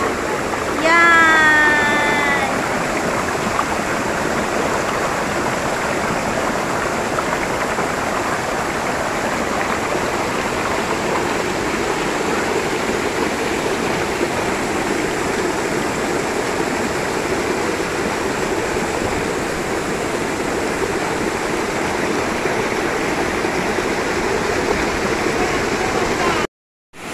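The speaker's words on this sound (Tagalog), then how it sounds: "Ang dami-dami pong waterfalls dito, grabe." Ma Dai Stream in Hong Kong, a stream with many waterfalls, rushes and gurgles in a continuous, fairly loud wash of water that holds steady throughout before cutting off abruptly at the very end.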